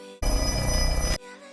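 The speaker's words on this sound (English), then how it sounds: "You know something's about to go down when you hear that phone ring." An old telephone bell rings loudly in one continuous burst of about a second, with a bright metallic tone over a rapid rattling pulse, and it cuts off abruptly.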